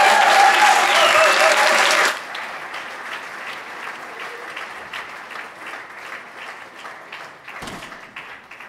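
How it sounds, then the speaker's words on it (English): A conference audience gives a round of applause for two speakers presenting a sustainable circular house, loud dense clapping for about two seconds, then fading to a softer scattered patter that lingers. "So give them a round of applause."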